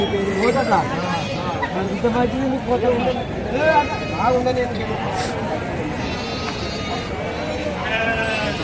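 Sheep and rams at an animal market in Rajarampalli, bleating in overlapping wavering calls, several close by, amid crowd chatter and people talking.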